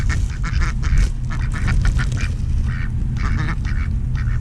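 Ducks at a lake being fed, quacking repeatedly and fairly close, with bursts of calls over steady low rumble and background noise.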